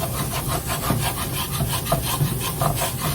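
A wooden spoon scrapes browned bits off the bottom of a soup pot while making broccoli cauliflower cheese soup, giving a steady, close, rasping scrape in repeated back-and-forth strokes with no talking.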